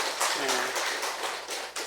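A church congregation at a Sunday service in Yangju claps to welcome a newly registered young couple. The applause is brief and steady, moderately loud, with a voice faintly underneath.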